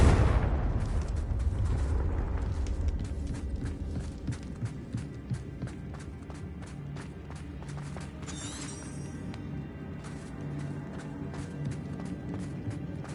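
The Confringo explosive spell in Hogwarts Legacy lands with a loud, booming burst that decays into a rumbling, crackling tail, followed by scattered debris clatter and low ambient rumble.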